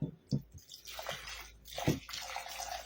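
Water poured from a vessel into a pot holding glass jars of tomatoes set up for sterilizing, heard as close sloshing and splashing with drips in uneven bursts, no talk over it.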